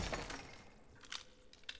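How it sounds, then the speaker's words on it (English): A gunshot breaks through shatterproof glass in BioShock, heard as a dull crack with several brittle glass-breaking bursts spread across under two seconds, moderately loud. "I'll just shoot this open"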